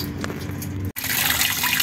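Water drains from a Ford Zetec Rocam 1.6 8V engine that overheated and got water in its oil, splashing steadily and loudly into a can close by, with a brief break partway through.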